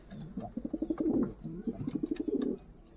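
Active Giribaz tumbler pigeons in a village loft coo softly nearby in rhythmic, pulsing bursts, two clear runs of throaty cooing separated by a short pause.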